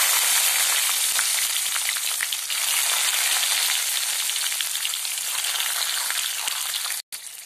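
Garlic and a spoonful of cumin seeds frying in hot oil in a pan, a loud, steady sizzle with fine crackling pops throughout, briefly cutting out near the end.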